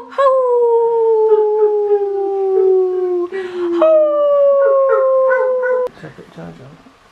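A person imitates a puppy howling, drawn-out wavering howls in two long phrases, close and loud, followed by a short exclamation and rustling.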